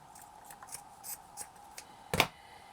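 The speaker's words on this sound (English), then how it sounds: "Now I'm just going to cut this at the next point here." Scissors cut fabric for a shabby chic flower headband, making a run of soft, close snips ending in one louder, sharper cut, with no voice over them.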